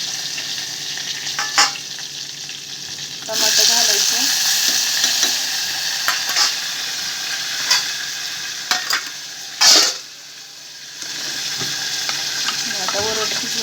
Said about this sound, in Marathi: चांगला फ्राय करून घ्यायचा मैत्रिणीला आता घालायचा कढीपत्ता कोथिंबीर घालायची